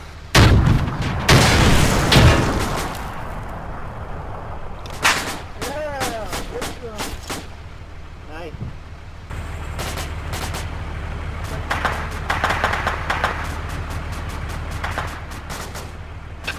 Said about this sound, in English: Taking fire from the west.